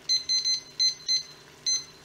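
A kitchen timer being started gives six short, high electronic beeps in an uneven run, close and clear over a quiet background.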